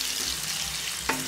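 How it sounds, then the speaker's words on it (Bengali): Chopped onion frying in hot oil for chicken do pyaza, a short, steady close sizzle with a single small clink of a spoon near the end. "এবার আমি এর মধ্যে পেঁয়াজ কুচিটা দিয়ে দিচ্ছি।"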